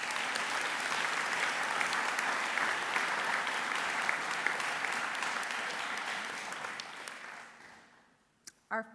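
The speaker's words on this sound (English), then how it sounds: "Let's have one more round of applause for all of our special award recipients" Sustained applause at a graduation ceremony for special award recipients, a broad wash of clapping that holds steady, then thins and fades out near the end, followed by a couple of brief bumps.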